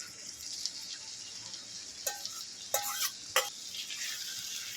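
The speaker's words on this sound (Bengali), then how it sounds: "সয়াবিনটা দিয়ে 2 মিনিটের মতো কষিয়ে নেব।" Soybean chunks fry in a pan with a quiet background sizzle, interrupted by a few short, sharp clinks and scrapes of a utensil against the pan.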